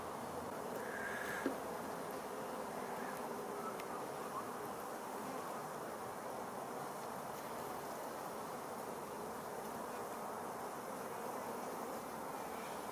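Honeybees and drones hum in an open beehive as a faint, steady, continuous buzz that persists evenly throughout, with no voices.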